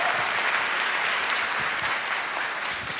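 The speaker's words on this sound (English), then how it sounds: "Let's give him a round of applause." An audience at a Miami-Dade County piano slam event claps for a former county chairman. The applause is loud, sustained and dense, filling the hall before it tapers slightly.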